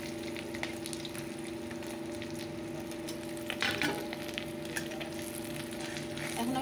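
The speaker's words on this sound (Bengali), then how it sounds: "এখন আমি আলুটা ভেজে নামিয়ে দিই" Potatoes fry in a pan with a low, continuous sizzle under a faint steady hum, broken by an occasional stir or clatter, soft and close.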